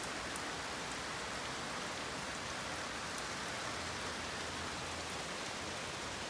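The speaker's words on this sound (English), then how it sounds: "it's pouring down rain here in Greenfield, Indiana" Steady, dense heavy rain pours down in Greenfield, Indiana, in a continuous hiss, loud and even throughout, with no voices.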